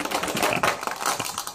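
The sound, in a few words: whisking batter for cockle fritters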